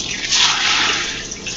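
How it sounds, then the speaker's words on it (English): Water splashes as it is poured over a pudding bag sitting in a pot while making Jiggs dinner, a loud, steady rush of pouring and sloshing that runs through the whole moment. "Ah, splashing!"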